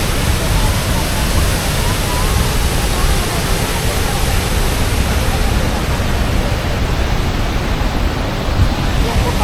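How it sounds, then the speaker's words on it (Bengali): Water gushes from an open dam gate in a heavy, continuous roar, loud and close, with no change or pause from start to end. "একটা গেট খোলা আছে সেখান থেকে এমন পরিমাণে জল বেরোচ্ছে দেখুন"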